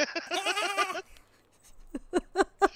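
Goats bleating close by, a long wavering quavering cry followed by several shorter bleats after a brief pause.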